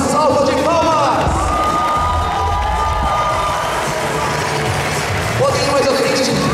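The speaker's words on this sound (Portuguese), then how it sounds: "Gente, a todos uma salva de palmas." Crowd cheers and claps for performers at a Brazilian anime-event cosplay parade, a loud, dense wash of whoops and applause filling the whole stretch, swelling again near the end with a host's voice over it.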